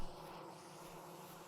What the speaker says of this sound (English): Look at them busy bees.